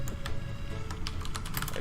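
Rapid keystrokes clatter on a computer keyboard during a Space Station 13 session, a quick, uneven run of close, crisp clicks with no talking.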